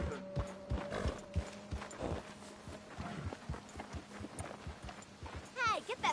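A horse's hooves clip-clop at a walking pace in the Red Dead Redemption 2 video game, a regular beat of close, fairly soft thuds mixed with low game ambience, a brief whinny-like sound near the end.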